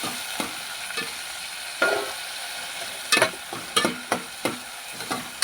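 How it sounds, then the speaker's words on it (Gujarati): Onion and garlic fry in a pan while a spoon scrapes and stirs through them, making a series of sharp clinks over a steady soft sizzle, with no talk. "ઘડીક હવે ડુંગળીને અને લસણને આપણે હવે થોડુંક આપણે હલાવી લેવું"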